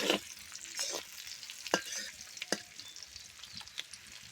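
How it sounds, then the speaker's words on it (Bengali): Liver fries in a pan on a village clay stove, a steady sizzle broken by the scrape and clack of a spatula stirring several times, fairly quiet and close with no talking. "এটা ভাজা ভাজা হবে সব কিছু একসাথে দিয়ে শুধু ভাজবে"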